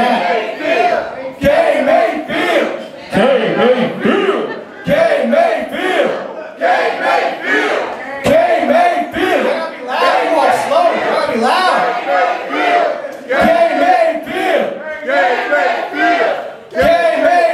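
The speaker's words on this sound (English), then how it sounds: "So, if we get a chant going, that would be good." A packed crowd at a live rap show at a gallery venue chants a rhythmic call in loud, repeated bursts that keep going, with shouting and cheering mixed in.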